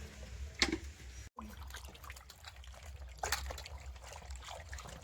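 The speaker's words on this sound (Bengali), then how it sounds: "আমগুলোকে ভালো করে ধুয়ে নেব।" Raw mangoes being washed in water for pickle-making, with soft trickling and splashing, a sharper splash near the start and another burst later, over a low steady background hum.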